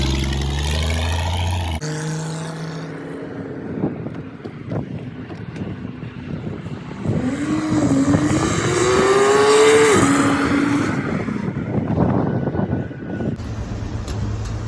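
A 1981 AMC Eagle Sundancer's engine revs up in a pull, rising in pitch and holding before easing off, loud and close with wind buffeting the microphone and no voices.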